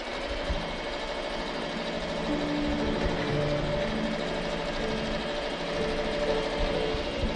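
A sewing machine stitches all the way around stacked pieces of fabric, giving a steady, continuous mechanical whir with a fine rattle that runs without a break for the whole stretch.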